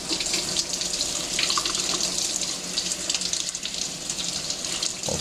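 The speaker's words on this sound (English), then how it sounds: "run warm water over the mold for 10 to 15 seconds" Warm tap water runs steadily from a faucet over a frozen ice ball mold, a continuous close splashing rush with no pauses.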